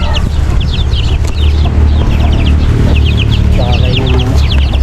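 Young chicks cluck and peep steadily as they are moved to a new home, a busy overlapping chorus of high chirps over a constant low hum.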